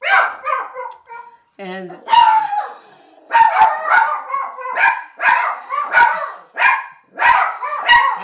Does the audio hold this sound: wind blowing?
no